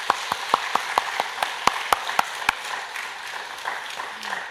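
A church congregation claps in unison at a Sunday worship service, sharp regular beats about four per second that merge into scattered applause and a crowd murmur before fading.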